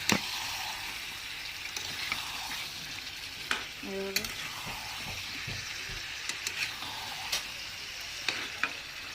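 Chicken with pointed gourd and potatoes being sautéed in a pan: a steady sizzle with occasional spoon scrapes and clicks, close and moderately loud, with no talking.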